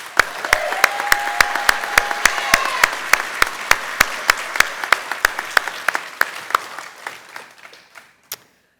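An audience at a nursing honor society ceremony claps in sustained applause that gradually thins out and fades, ending with a few scattered final claps.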